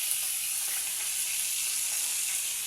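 Fresh fish fries in a kalaha pan over a village wood fire, a steady faint hiss and sizzle of hot oil with no voices.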